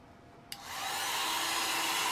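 A heat tool switches on with a click and ramps up into a steady, loud whooshing hum while drying a craft transfer, holding constant close by.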